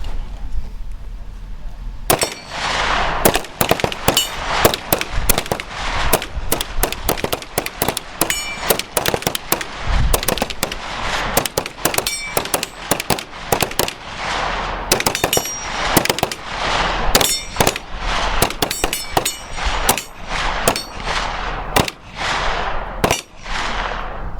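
Rapid, loud gunfire at a National Guard TAG marksmanship match, with many overlapping close and distant shots cracking continuously for over twenty seconds without talk.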